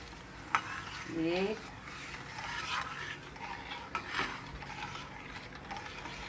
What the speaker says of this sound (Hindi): इसको बिना गैस जलाए चलाते जाते हैं ताकि इसको में गुठले ना पड़े